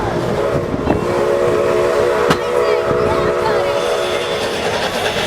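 Shea-type steam locomotive number 7, built by Lima Locomotive Works in 1911, rumbles loudly close by with a sustained tonal, whistle-like hum over heavy rolling rail noise and occasional sharp clanks.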